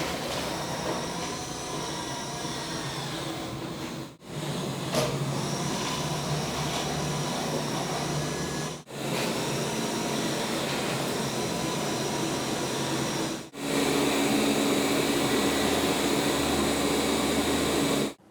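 A Roborock Q5 Pro Plus robot vacuum cleaner hums and whirs steadily, its motor noise shifting in level across several modes, separated by brief breaks.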